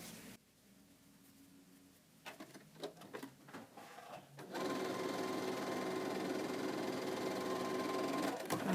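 A sewing machine stitches the bottom edge of a fabric face mask. A quieter start with a few handling bumps gives way to a steady, close mechanical whir that runs continuously to the end.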